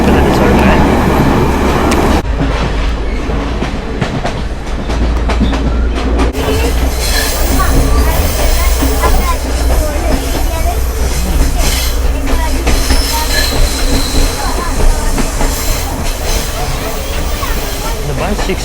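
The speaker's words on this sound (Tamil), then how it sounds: "ட்ரெயின் போய்கிட்டு இருக்கு." A moving train in Sri Lanka rumbles steadily with rattling wheels and intermittent metallic squeals, loud and close throughout; no voices are clear.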